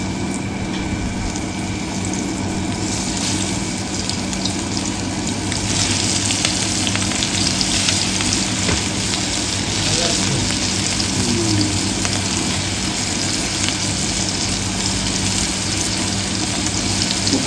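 Boit fish sizzling and frying in hot oil on a large tava, a steady, continuous crackle and hiss that grows slightly louder partway through, with no talking.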